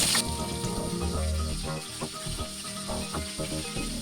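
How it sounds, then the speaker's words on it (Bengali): Turmeric- and salt-rubbed prawns frying one by one in hot oil in a covered pan for a Bengali malai curry, a steady close sizzle with crackles and pops running throughout. "নুন হলুদ মাখানো যে চিংড়ি মাছগুলো একে একে এই তেলের মধ্যে দিয়ে ভালো করে ভেজে নেব"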